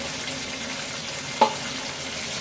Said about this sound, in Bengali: আমি মাছ অনেক বেশি ভাজি মানে একদম কড়া করে ভাজি